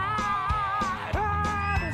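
A voice imitates a crowd of kids screaming with rising and falling squeals and whoops, packed into two seconds with little pause.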